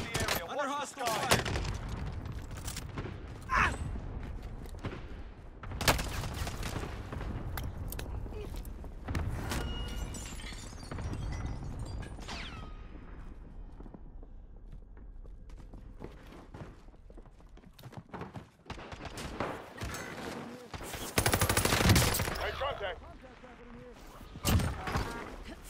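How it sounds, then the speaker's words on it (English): Gunfire in the video game Call of Duty: Modern Warfare: repeated sharp shots and bursts scattered through a noisy battlefield mix of blasts and movement, loud and close at times, with in-game voices calling out between them. "Under hostile fire."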